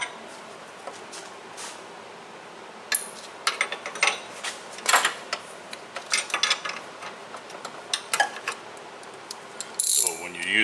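Ratcheting box end wrench cranking on a nut on the steering gear shaft of a 2013 Chevrolet Malibu, giving bursts of close metallic clicks in irregular runs, with a brief scrape near the end.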